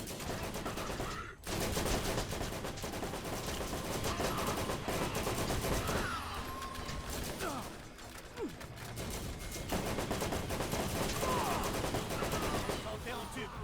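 Turret gunfire in the video game Borderlands crackles as rapid automatic bursts and mechanical clatter, steady and fairly loud across the whole stretch, with a brief gap early on.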